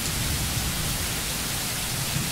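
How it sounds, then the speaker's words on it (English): Steady rain falling, a dense, even hiss of drops without pauses, loud and continuous with no other sounds. "Rain falls vertically from the sky."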